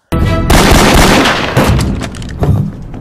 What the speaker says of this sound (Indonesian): Dia pun menyelamatkan Lee dengan pistol milik Agus yang terjatuh walau pada akhirnya dia pun ikut tewas akibat terkena tembakan peluru